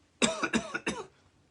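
A short run of three or four harsh coughs, close and fairly quiet, then silence.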